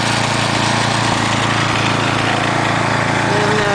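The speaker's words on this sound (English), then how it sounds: "So Dave still has the snow blower, and this is like the third time we've gone down the path." A snow blower runs steadily in deep snow from the 2010 blizzard, its engine drone loud, close and continuous throughout with no break.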